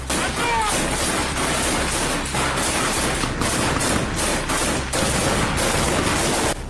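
Controlled bursts of gunfire from a close-range skirmish involving a Ukrainian soldier on a Russian front line. A steady, dense crackle of rapid shots continues throughout.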